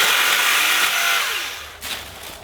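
An EGO battery pole saw cuts through an overhead tree branch with a loud, steady high whir that tapers off as the cut finishes, ending in a brief crack of the branch giving way.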